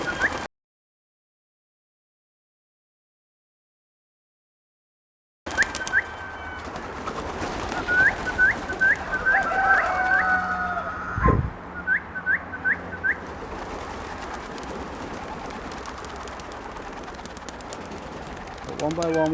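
Pigeons leaving their loft during a morning inspection, with repeated short whistle-like calls and coos over rustling and movement, while a person talks nearby; the first few seconds are silent.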